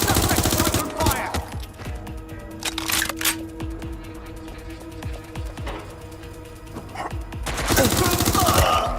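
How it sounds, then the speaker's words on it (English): Gunfire erupts in Watch Dogs: Legion: loud bursts of shots at the start and again near the end, with scattered cracks, clicks and game sounds in between. "Open fire!"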